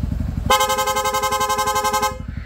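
A loud, rapid aftermarket Corsa electric horn on a Yamaha Sniper 150 motorcycle blares in a fast pulsing warble for about two seconds after a low engine idle, then cuts off.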